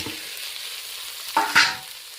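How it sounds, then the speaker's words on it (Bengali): Prawns, fried pointed gourd and fried potato being stirred into spices in a pan, with a brief soft sizzle and two quick scraping stirs close up, over quiet kitchen background. "এই পর্যায়ে ভেজে রাখা পটল আর ভেজে রাখা আলুটা যোগ করে দিলাম।"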